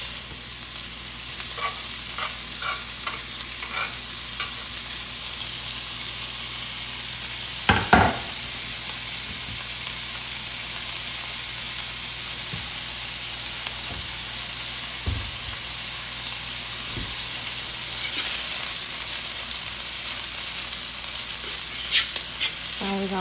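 Hillshire turkey sausage frying in a pan, a steady close sizzle and hiss throughout, broken by occasional clinks and scrapes of stirring.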